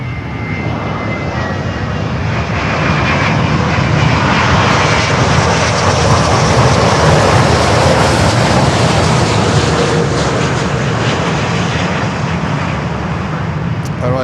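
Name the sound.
airplane landing on runway at Miami airport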